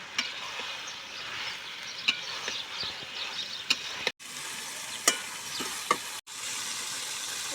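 Duck meat sizzles in hot spiced oil while being stirred, a continuous close frying hiss punctuated by sharp scrapes and knocks of the spoon against the pan, with no talking.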